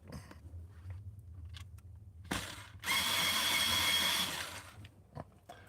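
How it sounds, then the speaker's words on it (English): An electric pencil sharpener grinds an eraser in one short buzz, then in a longer, louder whirring burst of about a second and a half. Faint scattered taps from a painting session sit before and after. "I gotta sharpen my eraser up. I got an electric sharpener."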